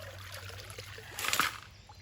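Stream water in Indiana trickles and swirls around a wedged boulder, forming a riffle. It is faint and steady, with a brief, brighter splashing surge midway before it settles back to a soft flow.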